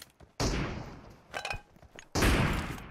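Gunfire erupts in PUBG Mobile as two loud, close bursts of shots with harsh, sharp onsets and decaying tails, separated by quieter scattered shots in between.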